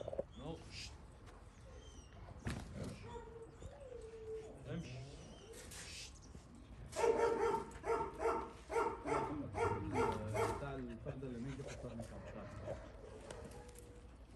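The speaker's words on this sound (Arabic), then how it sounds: "كلاب كلاب." Dogs bark in a rapid rhythmic run partway through, fairly close, while people talk over and around it in the background of a rural scene.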